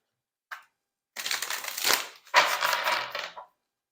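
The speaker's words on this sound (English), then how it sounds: "One more shuffle" Tarot cards are shuffled by hand in two crisp, riffling bursts after a brief tap, close and clear in a quiet room with no talking.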